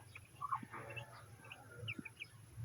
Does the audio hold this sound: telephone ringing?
no